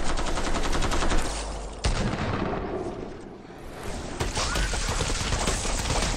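Gunfire at zombies in the video game Fortnite, loud, dense rapid shots and heavy booms throughout, briefly dipping before resuming.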